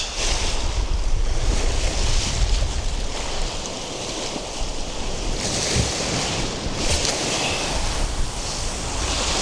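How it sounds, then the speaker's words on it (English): Steady roar of wind and breaking surf at a beach in rain, with gusts buffeting the microphone and waves washing in continuously at close range. "Now the wind started to pick up and it started to rain,"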